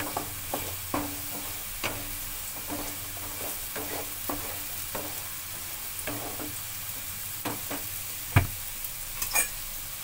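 Potatoes and carrots fry golden brown in a pan with a steady sizzle, broken by repeated scrapes and clacks of stirring at irregular intervals.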